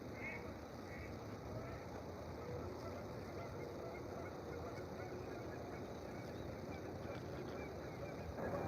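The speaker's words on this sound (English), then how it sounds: "the male ducks are out this morning making a racket" Male ducks honk and quack in a steady, noisy chorus on a Minnesota trout river in the morning, birds close and far blending over constant flowing water.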